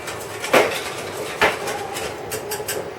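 Seasoning of black pepper, white pepper and salt being mixed in a bowl, with two sharp utensil knocks against the bowl and lighter scraping and clinking between them, close and with no talk.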